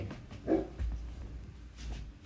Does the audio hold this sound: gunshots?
no